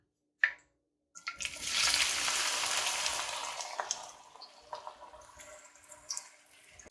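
A large onion hits hot oil already used to lightly fry eggs, bursting into a loud hiss that settles into steady sizzling and crackling, after a brief clink and a short silence.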